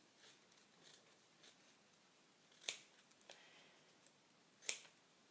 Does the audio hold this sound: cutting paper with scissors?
yes